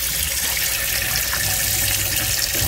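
A steady, broad rush of running water, like flow through plumbing, continues evenly throughout with no breaks or voices.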